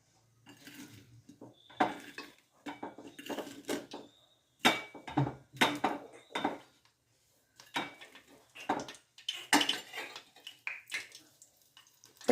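Steel bowl pressing and clinking against fried dal vadi pieces in a pan, with irregular metallic taps and scrapes in short clusters, close and quiet.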